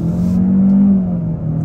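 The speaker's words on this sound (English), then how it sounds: "We can come to a complete stop, try out an acceleration off the line." A Kia K5 GT-Line launches hard from a standstill, its engine a loud, low, steady drone that rises slightly in pitch as it pulls, recorded from inside the car with no talking.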